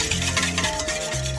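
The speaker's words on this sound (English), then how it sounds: "These whisk together and it holds the dressing." Olive oil being whisked into a balsamic Dijon dressing, quick close stirring and rubbing strokes in a short continuous burst over a faint background hum, no speech.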